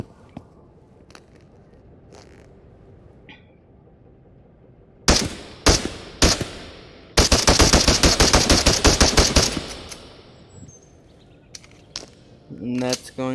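GSh-18 pistol fired in the VR game Into the Radius: a few single sharp shots, then a rapid loud burst of automatic fire, followed by mechanical clicks and handling noises.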